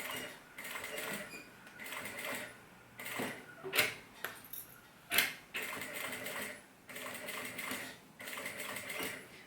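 A sewing machine stitches a shoulder bag seam with piping, running in steady bursts of motor whir broken by short pauses and a couple of sharp clicks as the fabric is repositioned.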